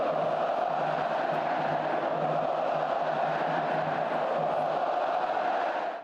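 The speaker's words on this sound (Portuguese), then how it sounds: "a torcida vascaína comemorou o resultado com gritos de olé" Vasco da Gama fans in a stadium after a 2-0 win over Fluminense, chanting olé together in a dense, sustained roar that stays loud and even from start to finish.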